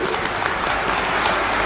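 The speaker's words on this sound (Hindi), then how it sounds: "एक बार जोर से ताली बजाइए किरण जी के लिए" A crowd at a political rally claps in loud, dense, continuous applause that fills the space, with no talk heard over it.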